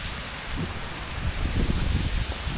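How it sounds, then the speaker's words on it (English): Mountain waterfall on a hike in extreme wet, windy conditions, a continuous rushing wash of water with low rumbling wind buffeting the microphone. "There's that waterfall."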